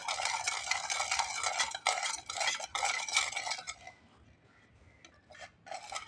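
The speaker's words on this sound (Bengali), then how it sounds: "এখানে দিয়ে দিব 1 চা চামচ চিনি, জিরা ভালোভাবে মিশিয়ে নিচ্ছি।" Sugar and cumin are mixed in a bowl with a spoon, giving rapid scraping and clinking strokes close by, then a pause and a few final taps.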